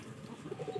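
Pigeons kept in a small home loft of about fifteen pairs coo in soft, low repeated bursts, close by, with a brief brighter flutter or call at the very end and no talking.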